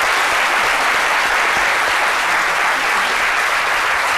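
Loud, dense applause from a French television studio audience, sustained and steady throughout without pause.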